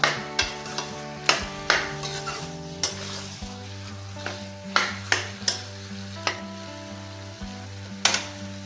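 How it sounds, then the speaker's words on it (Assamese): Chicken pieces sizzle steadily in a hot pan for a chicken curry with banana stem, with a spoon scraping and stirring in sharp, irregular strokes every second or so, close and clear with no talk. "এই মাংসখিনি ভালকৈ ভজা ভজা হ'ব লাগিব।"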